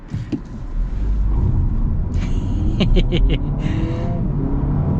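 A 2026 Honda Civic accelerates hard in a race, heard from inside the cabin. Its engine drone climbs steadily and loudly, with brief chirps as the tires lose traction and voices underneath.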